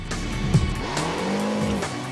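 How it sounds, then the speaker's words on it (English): A car power-slides through a corner in the video game Jak X Combat Racing, using the e-brake: a steady engine drone with a short tire screech partway through, its pitch bending as the slide carries on, loud and close. "You can use the E-brake to get into a power slide on turns."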